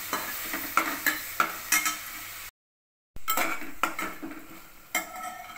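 Chopped tomatoes go into a hot frying pan for a fenugreek-leaf dish and are stirred, giving a soft sizzle broken by repeated scraping and clinking of a spoon against the pan, with a brief silent gap midway.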